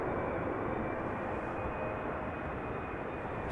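A KLM Boeing 777 arriving from Lima, Peru, on a crosswindy approach into Amsterdam Schiphol gives off a constant, low jet engine rumble and roar, distant and even throughout with no voices.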